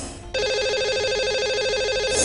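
A telephone ringtone sounds as a call is placed to a lucky caller on a live Hindi broadcast, a steady, loud warbling ring that begins abruptly and continues without pause.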